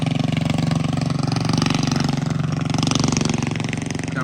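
Big Block Baja Warrior mini bike engine running steadily and loudly up close, a continuous rough mechanical drone with a fast pulsing beat and no pauses.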